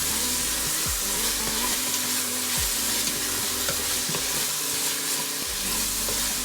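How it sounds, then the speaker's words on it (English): Onion with salt and pepper frying in a pan for beef stew gives a steady close sizzle with occasional utensil scrapes, and no voices. "And leave it all to fry for another minute or two."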